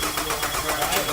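A car engine cranks over with a rapid, even rhythmic churning of the starter during a battery cable voltage drop test, loud and close, over only a brief stretch.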